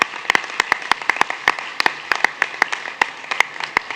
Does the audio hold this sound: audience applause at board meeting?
yes